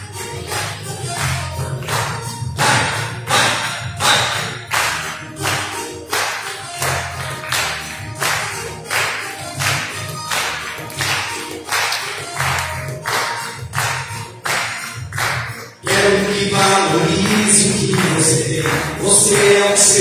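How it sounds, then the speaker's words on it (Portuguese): Church congregation clapping hands in a steady, loud rhythmic beat over music, the pattern continuing throughout and swelling louder near the end. "Nas palmas, igreja."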